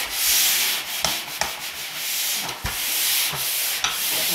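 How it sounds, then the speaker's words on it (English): Light hand sanding on drywall around screw spots during a level 5 finish, giving a steady close abrasive hiss with a few short strokes and knocks breaking through. "I'm just dusting everything down lightly."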